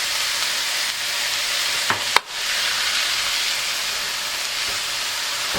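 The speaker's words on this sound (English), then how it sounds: "just keep breaking it up and mixing up the onions and the beef" Ground beef and onions fry in a pan for shepherd's pie, giving a steady, dense sizzling hiss that stays close and even, with a brief utensil clatter partway through as the mixture is stirred and broken up.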